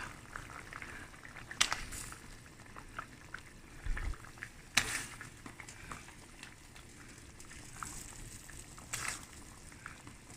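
A Jaffna-style fish curry simmers in a pot, giving a faint, continuous bubbling with occasional soft pops and clicks and no talk.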